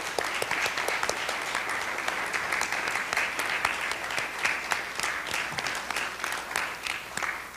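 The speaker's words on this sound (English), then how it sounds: "a round of applause for our distinguished moderator and judges" An audience at a national public policy forum finals claps steadily for the moderator and judges, a sustained round of indoor applause with distinct individual claps, moderately distant and without talk.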